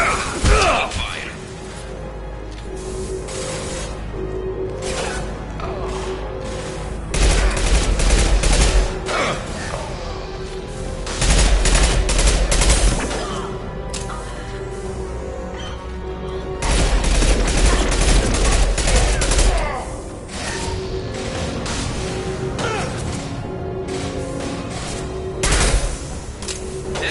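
Gunfire in the Mass Effect video game on PS5 arrives as repeated bursts of rapid shots, loud and dense, with heavier volleys in several stretches, layered over game sounds and brief speech.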